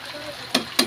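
Pork fries unmarinated in a pan with a brief bed of crackling sizzle, then two sharp spitting pops of hot oil in under a second, close up.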